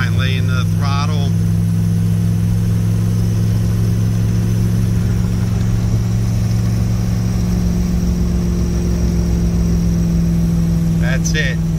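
A stock 6.5 turbo diesel in a dually pickup truck drones loudly and steadily from inside the cab under throttle, its low engine hum holding constant with brief voices at the start and end.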